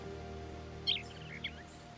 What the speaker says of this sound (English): A real live bird.